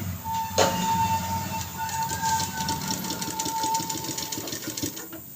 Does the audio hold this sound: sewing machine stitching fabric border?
yes